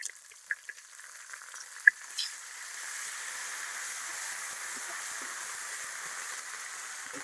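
Ginger-cumin paste hits hot oil with fried onions in a pan, a few sharp clinks and pops at first, then a steady, even sizzle settles in and continues alone.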